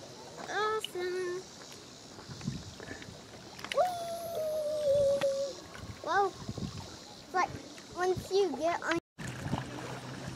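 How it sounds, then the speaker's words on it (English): Light splashes and paddling water from a child swimming in a lake beside an Old Town Saranac 146 canoe, heard close, with the child's high squeals and chatter over quiet outdoor ambience. "First time swimming in the lake."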